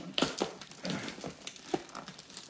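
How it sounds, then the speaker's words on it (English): Plastic wrapping on a cassette tape being cut and torn open, with close crinkling and crunching bursts in an uneven rhythm, quiet and with no talking. "Now, let's cut this open."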